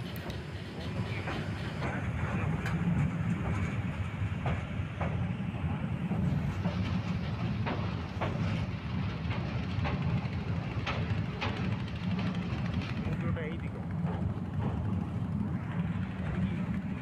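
A passenger train runs steadily toward Chattogram with a continuous loud rumble and rattling wheels, captured close by from start to finish.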